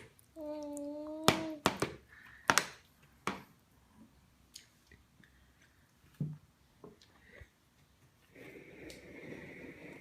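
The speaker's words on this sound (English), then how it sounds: "clap your hands" A few sharp hand claps ring out in a quiet room during the children's song "If You're Happy and You Know It", scattered and uneven, between bits of singing and small household noises.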